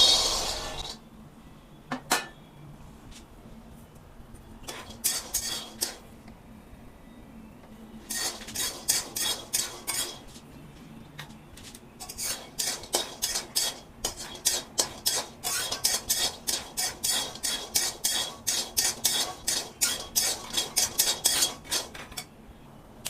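Peanuts roasting in a pan, stirred with a utensil that scrapes and clinks against the metal in quick repeated strokes, sparse at first and then a dense rhythmic run, with no talking.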